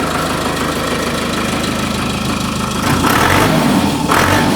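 A 2021-model tractor engine with about 1000 hours of use runs loud and close with a steady knocking rumble, then revs up twice in short bursts.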